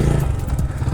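A 125cc motorcycle held in first gear for a wheelie attempt, its engine droning loud and close in a short burst with some clattering mechanical noise and no talk.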